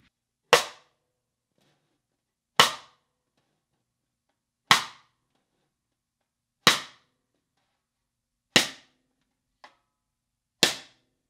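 Cross-stick strokes on a snare drum, played with the stick moving from about two inches off center out to the hoop, sound as six sharp, evenly spaced clicks about two seconds apart, with one faint extra tap and silence between.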